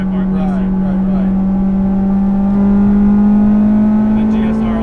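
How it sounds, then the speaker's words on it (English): A 1998 Acura Integra GSR with an all-motor build and a light flywheel, its engine revving loudly and climbing steadily in pitch as it holds a smooth rising drone, heard up close with someone talking over it. "That flywheel, man, it revs up like crazy."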